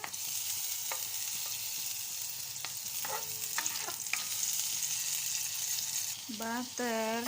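Butter melts in a pan at the start of a chicken stew, making a steady low sizzle with scattered utensil clicks and taps, and a brief voice near the end.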